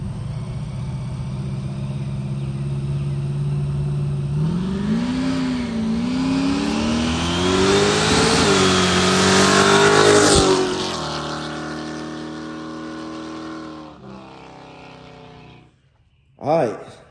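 A supercharged G-body drag car makes its first test pass on hard tires, the engine roaring loudly and steadily as it revs and climbs in pitch, then backing off and fading before a final short burst.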